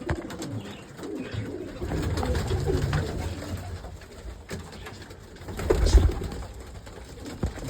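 Pigeons coo softly nearby amid rustling and fluttering, with a brief louder burst of wing flaps toward the end.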